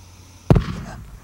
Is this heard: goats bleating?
no